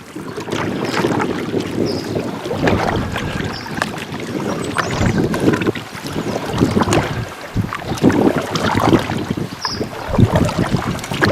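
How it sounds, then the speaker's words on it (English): Wind gusts roar steadily across a canoe on the South Saskatchewan River, with broadband buffeting and microphone rumble throughout, plus faint water and hull knocks underneath. "here comes the wind"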